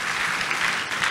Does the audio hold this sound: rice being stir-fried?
no